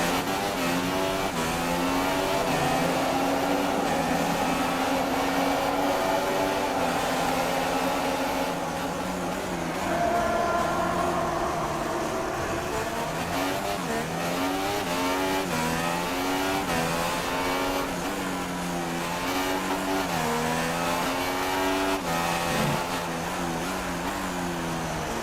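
A Honda V6 hybrid Formula 1 engine screams through the Monaco tunnel in the F1 2016 video game, a loud, continuous high-pitched whine that sweeps up and down through gear changes and acceleration, alone without talk.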